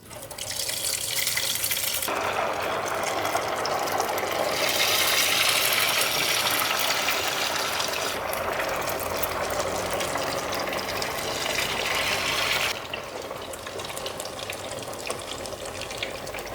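Chicken sempol coated in beaten egg frying in hot oil, a loud, steady broadband sizzle and crackle that runs throughout and eases slightly toward the end, with no talking.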